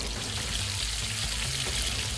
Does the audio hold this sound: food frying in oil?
yes